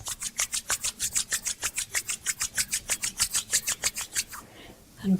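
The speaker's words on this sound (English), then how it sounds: "bring the palms of your hands together, rub the palms together, creating heat between your hands" Palms rubbed briskly together, a steady run of about twenty quick dry swishing strokes, close and clear, fading out near the end with no talk over it.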